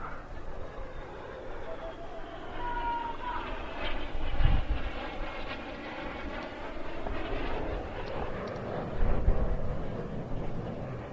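Display aircraft approach and cross at an air show, engines swelling in two loud passing roars with shifting whines, a commentator's voice heard beneath.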